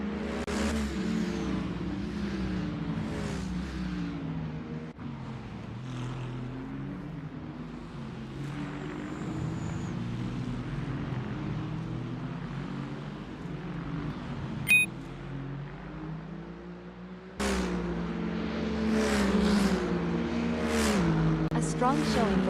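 GT truck race engines in a sim racing game, a continuous loud droning roar with shifting revs and gear changes throughout, a brief sharp spike midway, intensifying near the end, with a commentator talking over it.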